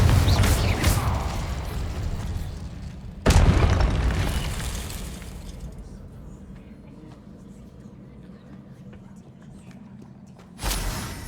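A Confringo fire spell exploding in the Hogwarts Legacy video game: sharp booming bursts at the start, again around three seconds in and near the end, each followed by a decaying rumble.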